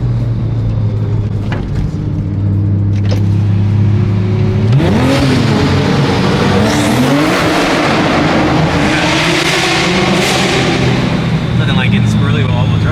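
A straight-piped Ferrari 348 idles with a low steady drone, then revs hard and loud with rising and falling engine sweeps on a Miami street, with voices talking over it.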